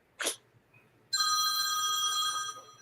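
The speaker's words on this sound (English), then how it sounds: "somebody's phone's going off" A telephone rings with a steady, bright electronic tone that starts abruptly after a short sharp noise and holds at a constant level for over a second before cutting off.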